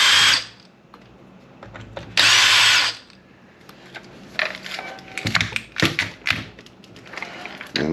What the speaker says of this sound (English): Take out these two screws.